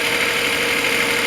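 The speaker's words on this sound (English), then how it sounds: "It's an 850 engine I've just rebuilt over the winter" A freshly rebuilt Reliant 850 engine runs on a test bench, exhausting through a vacuum cleaner hose, with a steady, close, continuous drone and no talk over it.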